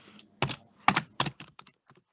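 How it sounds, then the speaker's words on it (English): Manual typing on a computer keyboard: a few distinct, close key clacks in an uneven rhythm, with a couple of heavier strikes followed by lighter taps trailing off, with no talking. "this is me just manually typing the information"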